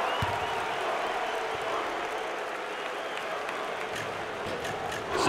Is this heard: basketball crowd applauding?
yes